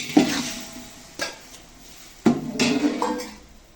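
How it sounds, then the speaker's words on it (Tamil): Tomatoes sauté in oil in a pan alongside chicken in a home kitchen, with a soft sizzle beneath several sharp scrapes and clinks of a spoon stirring against the pan. "தக்காளி நல்லா வதங்கட்டும்."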